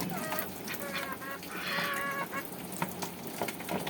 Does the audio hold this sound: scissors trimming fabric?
no